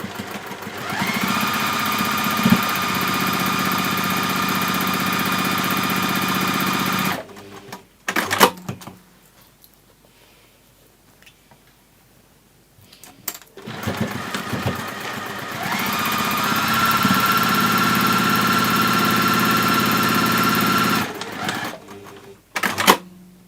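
A sewing machine stitching a French seam on fabric for a gift bag, running in two long steady whirring bursts with a quiet pause and a few handling clicks between.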